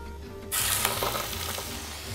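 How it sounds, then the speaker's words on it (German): A veal roast dropped into very hot oil in a roasting pot, bursting into a loud steady sizzle that continues close up after a quiet start. "Während der Braten jetzt schön brät"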